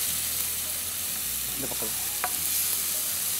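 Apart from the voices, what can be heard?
stirring and frying egg thokku in a pan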